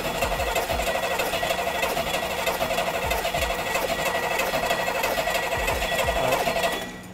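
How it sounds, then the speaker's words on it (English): A car engine cranks over on its starter in a loud, steady, rapid rhythmic churning that runs close and unbroken for several seconds before cutting off at the end. "now we're gonna go ahead and hit the starter to crank the engine over again"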